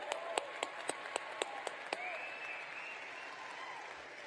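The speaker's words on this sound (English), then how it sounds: "Come on, a bigger clap." A graduation ceremony audience claps in a few sharp, evenly spaced bursts that quickly fade, leaving a low crowd murmur behind them.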